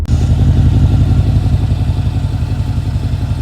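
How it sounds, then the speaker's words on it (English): A 2014 Mercedes-Benz SL550 roadster with an AMG sports package revs its exhaust: a loud, deep, continuous engine roar held close by, pulsing slightly as the throttle is worked, with no talking. "Cool exhaust system of this 2014 SL. Hit the gas."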